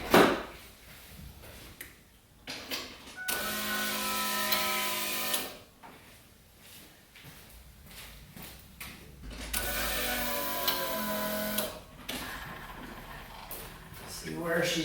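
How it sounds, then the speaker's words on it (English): An electric fuel pump primes in a turbocharged LS V8-swapped Ford Ranger, giving two steady whirring hums of a few seconds each, close by, with clicks and talk in the gaps between runs. "I'm going to prime the pump."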